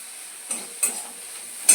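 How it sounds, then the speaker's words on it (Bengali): Morola fish for a tamarind sour curry sizzles in a pan as it is stirred, a soft steady hiss punctuated by three quick scraping strokes, close up. "মাছটা দিয়ে একটু খুব ভালো করে নেড়ে চেড়ে নিলাম।"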